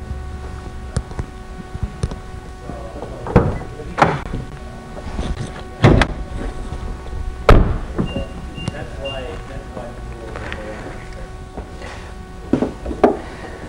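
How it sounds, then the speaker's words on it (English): The hood of a Nissan GT-R opening, the car holding a 3.8-liter twin-turbo V6: several sharp thunks and latch clunks spread across the span, with quieter shuffling and handling noise in between. "I'm going to pop the hood."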